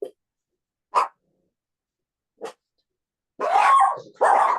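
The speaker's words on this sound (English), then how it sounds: "they're just the dogs" Dogs bark in a few sharp, separate yelps up close, followed by longer, louder barking bursts at the end, with no talk over them.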